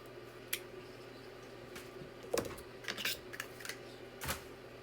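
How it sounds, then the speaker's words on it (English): Scissors snip through the ribbon tail of a simple handmade bow, a few quiet, sharp cuts and rustles spaced over several seconds in a calm room. "Okay, so I'm going to cut this tail."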